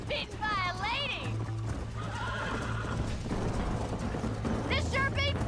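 Horses in the Red Dead Redemption video game whinny sharply at the start and again near the end, with steady clip-clopping hooves and a low rumble beneath, while voices talk over it.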